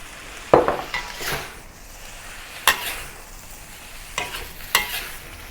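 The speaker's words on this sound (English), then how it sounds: "Next, I'll return the chicken and prawns back to the wok." Chicken and prawns sizzle in a hot wok while a utensil scrapes and clacks against the metal in a few sharp strokes.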